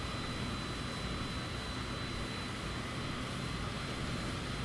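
Aircraft engine in Microsoft Flight Simulator 2020: a steady, fairly quiet engine drone with airflow roar, unchanging throughout, with no voices.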